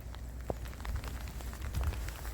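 Steady patter of rain on a surface in Cacabelos, Spain, with scattered drops and a soft continuous hiss, no voices.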